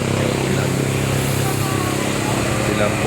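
A motorcycle engine rumbles close by on a road used by joggers and cyclists, a loud continuous drone throughout with a voice talking over it.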